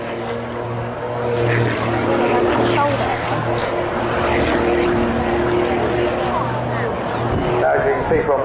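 A jet engine on an aerobatic aircraft with asymmetric thrust roars and drones steadily at close range, its pitch shifting slightly as it passes through manoeuvres, with no other sounds.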